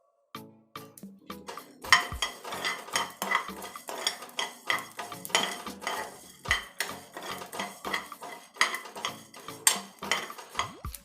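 Curry leaves and cumin frying in a pan, stirred with a metal utensil that scrapes and clinks against the pan in quick irregular strokes over a faint sizzle, close and clear with no talking.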